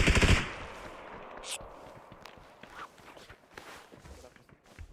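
A quick burst of rapid gunfire in PUBG opens the clip, followed by scattered footsteps and faint shots in a game soundscape.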